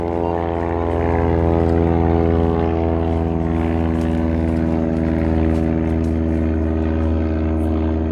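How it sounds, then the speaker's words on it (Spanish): A small propeller airplane passes overhead with a continuous droning engine hum, fairly loud and steady, with no talking. "Se escucha como una avioneta."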